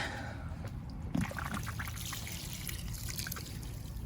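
Liquid fertilizer is poured into a large planting container, a faint, steady trickle and splash that runs without pause.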